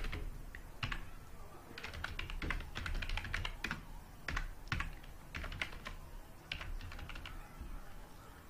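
Steady typing on a computer keyboard while a file location is entered in an HTML editor, with irregular clusters of crisp, close key clicks and short pauses between bursts.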